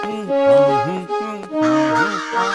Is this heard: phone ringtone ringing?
no